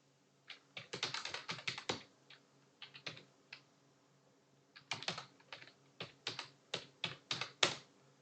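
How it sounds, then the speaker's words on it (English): Bursts of keystrokes on a computer keyboard as a program is typed in, clustered runs of rapid clicks separated by short pauses, close and fairly quiet with no talking. "just so we can type in the program"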